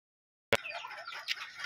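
Hens clucking in a poultry pen, a sudden near start followed by soft, irregular clucks and murmurs from the birds for about a second.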